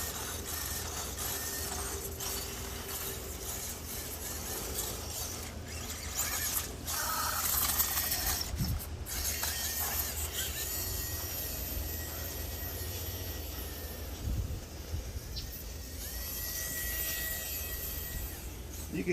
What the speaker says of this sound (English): When it drives by, you can hear the noise it makes.